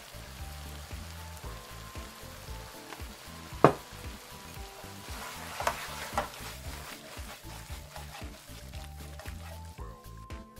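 Oyster-sauce yakisoba noodles fry in a pan with a steady sizzle as sesame oil is added, with occasional sharper crackles and a voice talking over the cooking.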